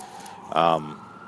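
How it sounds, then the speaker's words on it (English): An emergency vehicle siren passing outside holds a faint, steady wail in the background, with a brief voice breaking in over it. "I think that siren's gonna cut me off."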